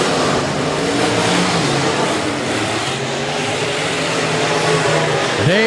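B-Modified race cars at Rapid Speedway roar past in a continuous loud engine drone with rising and falling revs, the pack sounding close and then another car sweeping by near the end.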